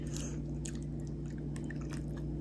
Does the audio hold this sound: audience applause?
no